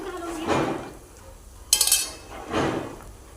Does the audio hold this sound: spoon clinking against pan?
yes